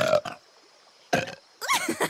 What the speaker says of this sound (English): Me and Boog have the best burp ops.